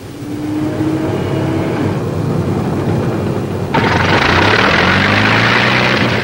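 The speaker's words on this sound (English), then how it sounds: "Finish check, starting engine." A P-51 Mustang aircraft engine cranking and catching, loud and close. It starts as a low whine and a rough turning rumble, then jumps into a broad, steady roar partway through.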